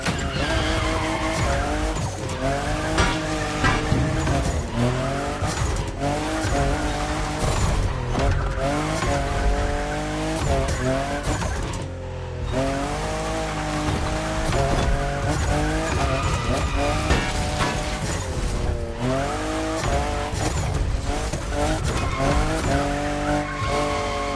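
A fifth-generation Toyota Supra drifting in The Crew Motorfest, engine revving up and down in loud repeated sweeps with continuous tire squeal and skidding, sustained throughout.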